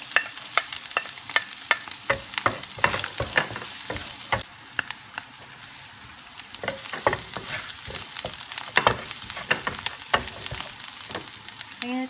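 Garlic and onion sauté in a frying pan for cauliflower rice, a steady loud sizzle broken by repeated sharp clicks and scrapes of stirring, with no talking.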